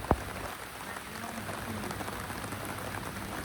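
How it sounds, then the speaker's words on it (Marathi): Rain falls steadily in a rainforest park, an even hiss of drops on leaves and surfaces, with a single sharp knock at the very start. "आज पाऊस पडलाय रेन फॉरेस्ट पार्कमध्ये"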